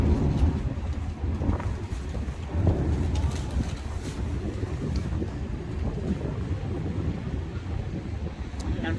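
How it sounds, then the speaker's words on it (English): A coastal breeze buffets an outdoor microphone, producing a steady low, rumbling roar that runs unbroken for the whole stretch with slight surges in strength and no voices. "the coastal breeze feels so good. I'm over here blowing in the wind"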